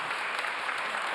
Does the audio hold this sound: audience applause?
yes